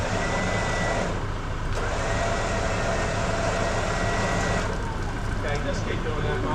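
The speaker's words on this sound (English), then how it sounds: "have a listen to the motor and how much it works, and how easy it does achieve pulling this car back onto its wheels" A Carbon 12,000-pound Scout Pro winch motor strains to pull a car back onto its wheels at a 4x4 outdoors show, giving a loud, steady, unbroken mechanical drone that runs through the whole stretch.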